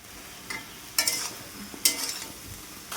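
Vegetables and pumpkin greens stir-fried with spices in a pan give a soft steady sizzle, broken by a few brief scraping stirs; there is no talking.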